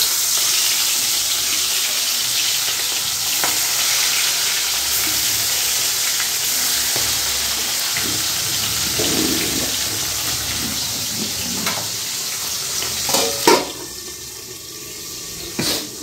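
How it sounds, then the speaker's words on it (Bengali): Tangra fish rubbed with salt and turmeric frying in hot oil, a loud, steady hiss and sizzle that runs throughout, with a few clatters and spatters near the end and no voices. "এই ট্যাংরা মাছ না ভাজতে গিয়ে খুব ভয় লাগে।"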